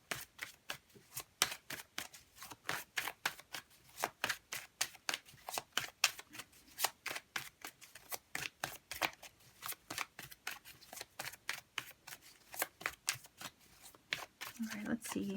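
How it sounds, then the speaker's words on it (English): Tarot cards being shuffled by hand, a fast run of crisp riffling slaps repeating steadily for the whole stretch, close and fairly loud, with no voice over it. "I do want to take another card."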